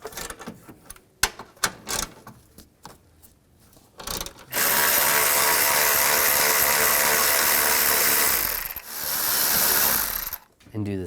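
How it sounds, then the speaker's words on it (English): A hand ratchet with a 12mm socket removes radiator cooling fan bolts on a 2013-17 Nissan Sentra, giving sparse clicking ratchet strokes, then a long steady run of fast close clicking that pauses briefly and resumes. "Take these 2 bolts out. I'm gonna use a 12mm socket."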